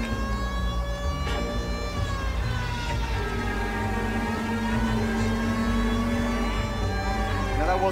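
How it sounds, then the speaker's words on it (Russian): A vehicle siren in a video game set in the 1940s wails in long sweeping tones over a low engine rumble, loud and continuous throughout. "Сирена такая еще уродская."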